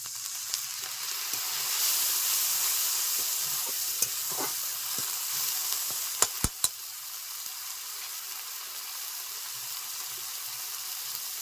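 Water splashes into a pan of frying ginger-garlic spice paste, setting off a steady, bright sizzle close by. A few sharp clicks break in partway through.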